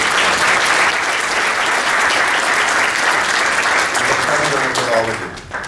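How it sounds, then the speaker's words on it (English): An audience at a University of Maryland event applauds loudly and continuously, a thick wash of clapping that holds steady before thinning slightly at the end. "Please give them a round of applause."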